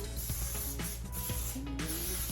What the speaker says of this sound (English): we're going to start out with a little bit of olive oil to coat the bird with. I like to use the spray kind.